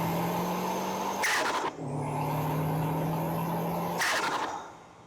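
Car engine captured by a microphone mounted in the closed, confined engine bay, a loud steady drone with two abrupt revving bursts about three seconds apart before it settles and fades at the close.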